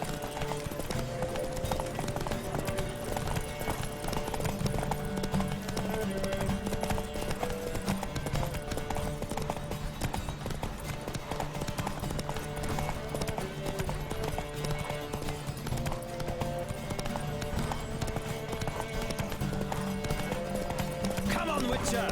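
Horses galloping in a race in The Witcher 3: Wild Hunt, steady pounding hoofbeats throughout under dense game music and effects, with voices calling out and occasional whinnies.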